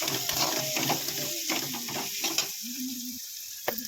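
Onions sautéing in a pan for onion rasam, with dried red chillies added, give a steady close sizzle and frying hiss, broken by scraping stirs and a few brief clicks.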